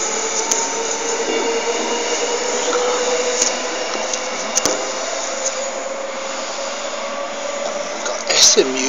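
Electric trains AM65 and 77 pulling out of Nundah station, a steady rumbling roar with a rising motor whine, occasional clicks and a brief wheel squeal near the end, under faint background voices.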